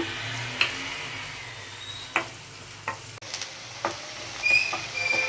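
Chopped onions sautéing in a pan while being cooked for a Kayalpattinam kalari curry: a steady low sizzle with intermittent scrape-and-stir clicks of a utensil, close and fairly quiet, no talking.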